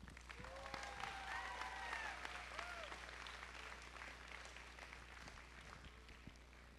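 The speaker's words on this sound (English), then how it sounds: "And another big round of applause for our generous sponsors" Audience applause at a FIRST Tech Challenge CENTERSTAGE regional robotics championship, a steady wash of clapping heard from a distance with faint voices and squeaky tones mixed in.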